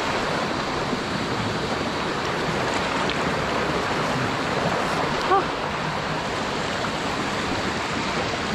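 Clear mountain stream water rushes strongly over rocks in a steady, loud, broadband wash that stays constant from start to end with no pauses.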